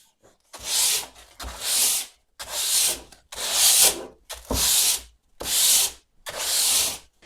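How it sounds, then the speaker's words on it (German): Sandpaper rubs along wooden edges in seven even back-and-forth strokes, each a rough scratchy hiss separated by brief pauses, close and fairly loud. "jetzt gehen wir nochmal über die Kanten drüber mit einem Schleifpapier"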